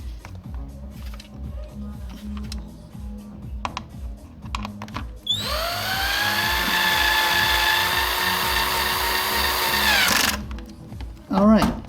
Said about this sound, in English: I'm going to go ahead and drill it in here